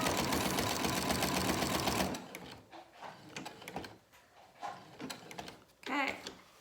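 A sewing machine back stitches a fabric face mask in a fast, dense mechanical chatter for about two seconds, then stops, followed by quieter handling clicks and fabric rustles.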